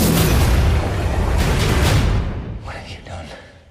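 Heavy gunfire and explosions in a film, a dense sustained roaring blast that fades over the last second into lighter, distant crackles, loud and close.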